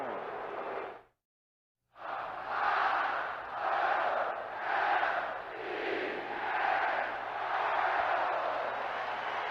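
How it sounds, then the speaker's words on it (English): A baseball cheering section in a stadium's upper deck during a World Series game, a distant roaring crowd that swells in repeated rhythmic waves of chanting after a brief silent gap. "That's Wild Bill Hagee and his cheering section in the upper deck."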